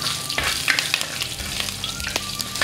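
Green chillies hit hot oil already crackling with fenugreek seeds and curry leaves, making a steady, close, loud sizzle with bursts of spitting and popping throughout, no voices.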